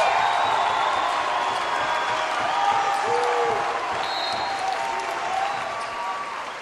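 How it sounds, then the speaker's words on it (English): Spartan basketball fans applaud at a boys' high school Division 2 championship game, a broad crowd ovation in a gym that holds steady and slowly tapers, mixed with crowd noise, sneaker squeaks and people talking. "He's going to get a round of applause from the Spartan fans"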